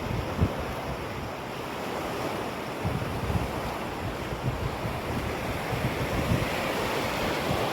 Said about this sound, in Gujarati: જાય છે ને ધબધબાટી પાણી.